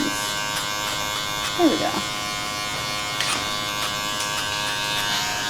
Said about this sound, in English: I'm going to clipper over comb these long ones out with my 2 closed all the way